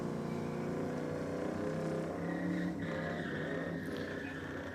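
At a night 4WD racing event, a 4x4 diesel truck does a burnout. Its engine roars loudly and steadily for several seconds, with tyre squeal rising above it.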